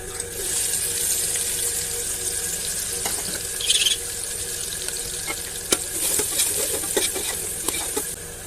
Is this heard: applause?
no